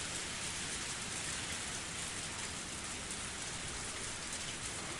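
Steady rain pours down in an unbroken hiss and patter of drops on surfaces, dense and even from start to finish, with no voices.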